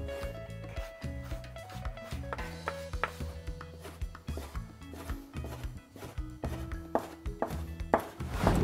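A knife slices through squid on a cutting board at even intervals, producing a quick series of soft close cuts and thunks, with faint music playing underneath.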